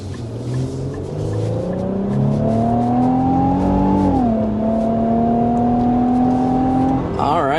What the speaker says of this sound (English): there's a 0 to a little past 60 miles per hour in this all-new 2025 Infiniti QX80